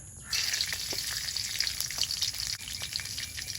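Whole spices crackle and sizzle in hot ghee in a kadai, a busy, close frying sound with sharp pops scattered over a steady hiss.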